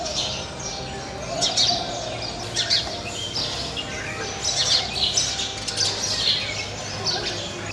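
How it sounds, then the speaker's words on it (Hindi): Hundreds of house sparrows nesting inside an old house in Lucknow chirp constantly, a busy overlapping chatter of tweets that swells and fades in bursts at close range. "चिड़ियों की चहचहाहट से ये घर गूंजता रहता है।"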